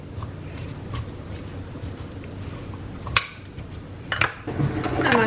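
Salad being mixed with Parmesan garlic dressing in a bowl, with soft wet tossing and a few sharp utensil clinks against the bowl, rising into busier rustling and scraping toward the end, close and without talk.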